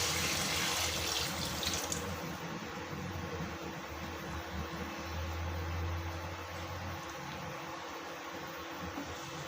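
Water runs steadily in a continuous splashing stream into a cooking pot for onion biryani, with a low background hum.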